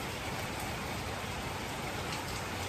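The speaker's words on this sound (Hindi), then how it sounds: "पटना में आज बारिश के मौसम बहुत मस्त, बहुत अच्छा लगता है।" Steady, dense rain falls in Patna, a continuous even hiss of drops on surfaces with no pauses, fairly soft overall.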